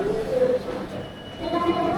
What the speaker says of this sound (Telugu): ఫైనల్గా తిరువనంతపురం రైల్వే స్టేషన్కి వచ్చేసినాం.